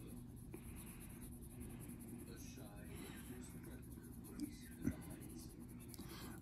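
Prismacolor markers and pencils scratch softly across paper as layers are laid down with hard pressure on a drawing, a faint, steady scraping with a couple of small taps near the end.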